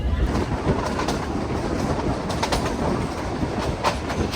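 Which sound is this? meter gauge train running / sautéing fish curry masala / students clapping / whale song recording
meter gauge train running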